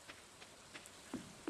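Light rain falling in the Stardew Valley video game, a soft steady patter with a few sparse, slightly louder drops standing out, faint and without talk.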